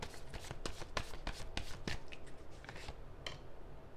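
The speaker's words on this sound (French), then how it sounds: "Je vais juste tirer quelques cartes supplémentaires." Tarot cards are shuffled and drawn, giving a quiet run of crisp riffling flicks and taps in irregular bursts, close and alone without talk.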